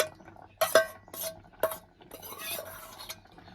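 Spoon scraping and clanking against a metal pot while chili powder is stirred into a simmering vegetable curry, several sharp clinks followed by steady scraping strokes, close and clear with no talk.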